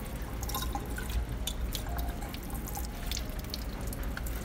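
Water runs steadily from a kitchen tap while a mangosteen is cut beneath it, a continuous splashing stream with drips and small knife clicks, no talk.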